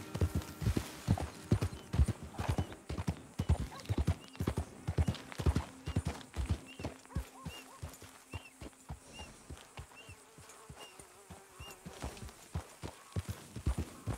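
Rhythmic hoof clip-clops from a horse in the video game Red Dead Redemption 2, steady and fairly quick, with a faint whinny-like tone in the background.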